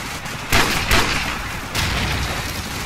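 Gunfire in Call of Duty 4: Modern Warfare, a dense run of shots and bursts with sharp loud cracks near 0.5, 0.9 and 1.7 seconds over constant game noise, with no talk.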